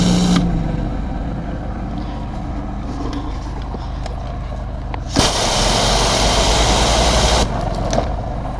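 Pressure washer surface scrubber spinning over concrete, a steady droning motor hum with a constant spray hiss that swells louder partway through, close and continuous with no talk.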